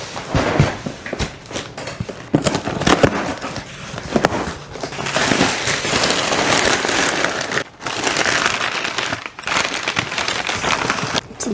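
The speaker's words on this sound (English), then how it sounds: "A lot of broken glass." Broken glass jars and packing material rattle and crinkle inside a shipping box as it is handled, a dense, continuous rustling and clinking that runs close and steady, with a few brief pauses.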